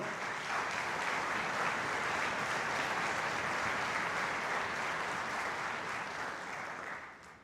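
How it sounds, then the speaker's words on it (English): Sustained applause from a school concert audience honoring a state-level piano student, a dense even wash of clapping that holds steady before fading at the end. "a round of applause for Annie and State Piano"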